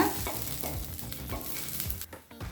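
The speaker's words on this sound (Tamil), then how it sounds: "அடுத்தது ஒரு சின்ன துண்டு இஞ்சி, இஞ்சியையும் ஒரு வதக்கிக்கலாங்க." A small piece of ginger sautés in a pan for a tomato dosa recipe. Soft sizzling runs under repeated stirring and scraping strokes, no one speaks, and it quiets briefly near the end.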